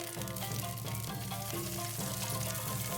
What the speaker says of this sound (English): Add green onions and fry over low heat. Fry slowly to bring out the aroma.